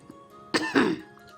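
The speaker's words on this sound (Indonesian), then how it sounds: "lagi kena batuk ini ya" A single short, close cough with a throaty, clearing quality, rising out of a quiet background.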